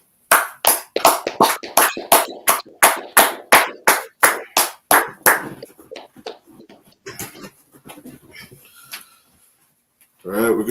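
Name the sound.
audience clapping at end of class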